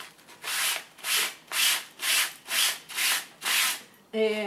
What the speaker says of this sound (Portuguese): eu quero mostrar para vocês rapidinho aqui o efeito da lixa